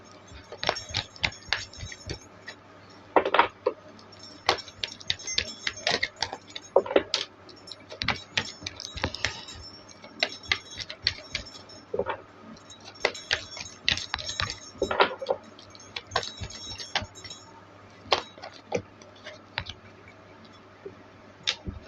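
Tarot cards shuffled by hand during a reading, a rapid run of crisp clicks and riffles in irregular bursts with short pauses between, close and fairly quiet, over a low steady hum and with no talking.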